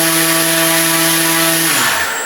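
An electric motor driven by an ESC runs at full throttle as a loud, steady whine with a high tone, then spins down near the end, its pitch dropping as it slows.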